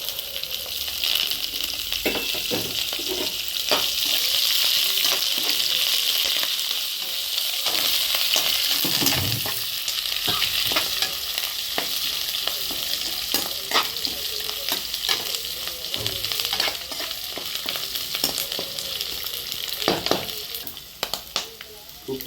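Mustard seeds, cumin and curry leaves fry in hot oil for a North Karnataka-style spiced puffed rice snack, giving a steady, dense sizzle with crackling pops and occasional stirring scrapes throughout.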